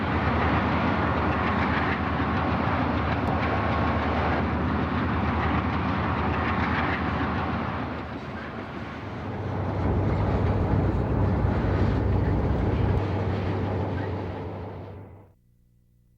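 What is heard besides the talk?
WP GE U-boat and SP&S Alco Century diesel locomotives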